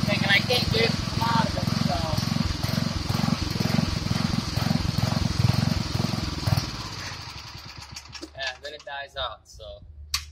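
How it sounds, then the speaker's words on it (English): A 1964 Wheel Horse Lawn Ranger lawn tractor engine with a carburetor fuel problem runs close by, its note rising and falling in a surge, then dying back to sputters and clicks near the end; someone talks over it. "If you listen to it, it's got that surging problem"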